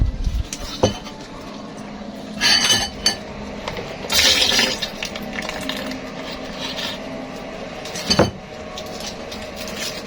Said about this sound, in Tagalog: maglalagay na lang ako ng ice water